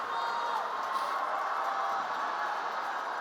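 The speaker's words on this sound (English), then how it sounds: "And it's a loud crowd as well." Loud, steady crowd roar with cheering fills the arena at a Morristown-Beard versus Morris Knolls high school ice hockey championship game, a continuous dense wash of voices and whoops from a packed near side.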